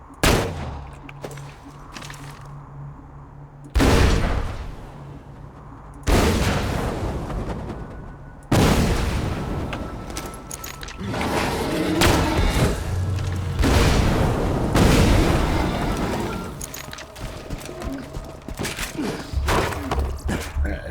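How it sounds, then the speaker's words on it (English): Rocket launcher explosions in the shooter Borderlands 2, several loud separate booms spaced a few seconds apart, each a sharp blast decaying into a rumble, with quieter game ambience between. "I'll mutilate some bullymongs with my new launcher"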